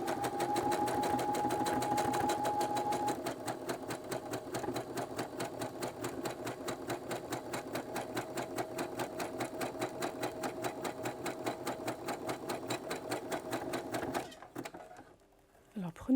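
A sewing machine runs fast and steadily, stitching elastic onto jersey knickers in a continuous close mechanical whirr with rapid needle ticks, a voice talking over it, before the motor stops near the end.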